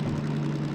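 A DM3 diesel locomotive in the Derail Valley train game runs at full throttle, pulling out of a harbor and steel mill, giving a loud, steady low engine drone with a strong hum throughout.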